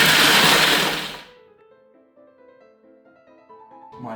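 A loud blender whirs as it grinds a praline mixture, then cuts off after about a second, leaving quiet background music.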